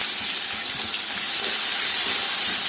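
Sliced onions sauté in a hot pan with a bit of salt, giving a steady, close, bright sizzle that holds evenly throughout with no voices.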